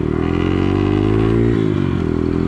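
A motorcycle ridden through the indigenous community of Agua Blanca in Ecuador, its engine droning loud and close with a steady rhythmic chug, then dipping briefly in pitch as the rider eases off.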